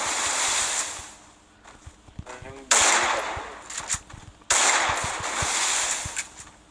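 Gunfire in the video game Free Fire comes as two loud bursts of rapid automatic shots, each lasting a couple of seconds and separated by a short, quieter lull.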